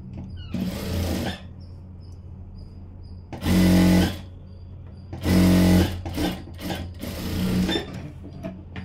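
Sewing machine stitching a blouse, running in several short bursts of rapid mechanical whirring with quiet pauses between, close and clear with no voices.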